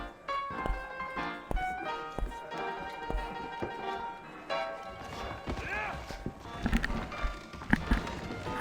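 Horse hooves clip-clop in Red Dead Redemption, a run of uneven thuds and taps at a close but moderate level, mixed with background game sounds and light clatter.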